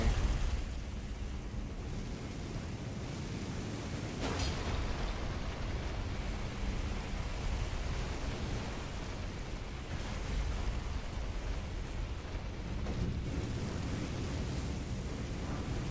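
A steady roar of fire in Elden Ring's Leyndell, Royal Capital, a faint, broad rushing noise broken by two sharper bursts, with no voices.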